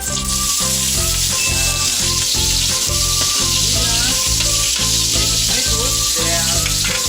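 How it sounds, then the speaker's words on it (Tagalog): Onions sizzle loudly and continuously in hot oil in a large pan for pork menudo, with a dense steady frying hiss and occasional clicks beneath a rhythmic background beat. "Una nating ilalagay ang ating sibuyas."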